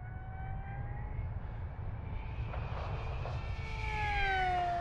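Durafly EFX Racer RC plane at full throttle, a steady electric whine with rising and falling tones as it passes, over constant low wind rumble, growing louder toward the end.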